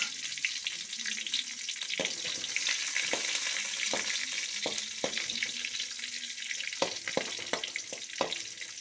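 Mustard seeds, shallots, dried red chilies and curry leaves crackle in hot oil in a kadai, a continuous sizzle broken by sharp pops and spatters scattered throughout, close by with no voices.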